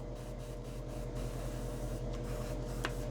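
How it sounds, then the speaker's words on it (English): A low-pressure airbrush hisses steadily while blowing air to dry acrylic paint on a scale model, a continuous soft rushing close by with faint clicks, and no one speaking. "keep your airbrush on low. And I could just dry this off."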